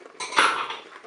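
A spoon scrapes around a pot while crème fraîche is stirred into polenta, making one short, close metallic clatter and scrape.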